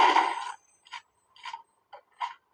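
A planted bomb in Counter-Strike 1.6 ticks with four short, evenly spaced electronic beeps, following a brief louder burst of game noise, with no voices over it.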